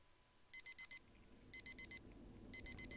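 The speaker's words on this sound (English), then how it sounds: "The alarm next to me is blaring in my ear nonstop." An alarm clock in the video game DDLC World of Dreams blares in sharp bursts of four rapid beeps, repeating about once a second, loud and close, with faint low background noise between bursts.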